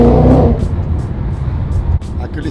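An 800 BHP supercharged Ford Mustang engine and exhaust, loud, close and steady, with a deep rumbling tone that holds throughout.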